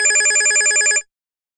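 A telephone rings for a call, its bright electronic trill pulsing rapidly for about a second, loud and close, then cutting to silence.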